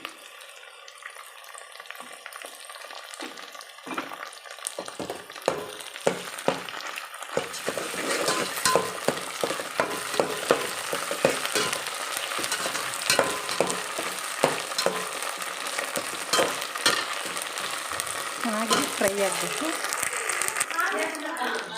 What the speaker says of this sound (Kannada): ಶುಂಠಿ ಬೆಳ್ಳುಳ್ಳಿ ಪೇಸ್ಟ್ ಹಾಕ್ತಾಯಿದ್ದೀನಿ